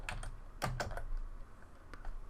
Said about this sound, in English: I'm going to go back and I'll type the word flip